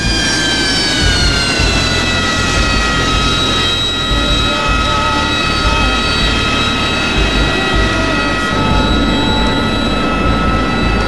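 Jet planes coming in to land one after another in a military flight video game, with a loud, steady engine roar and whine holding throughout, rising tones layered over dense low rumble.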